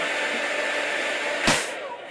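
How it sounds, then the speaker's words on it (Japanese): A household hair dryer runs with a steady, even broadband blowing hum at close range, with a brief louder gust or bump near the end and no talking over it. "音はね従来のこうドライヤーとそんな変わりはなく"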